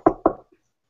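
Two quick knocks on wood, close and crisp, alone in an otherwise quiet room.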